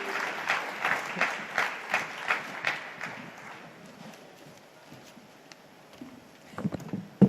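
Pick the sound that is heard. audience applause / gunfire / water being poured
audience applause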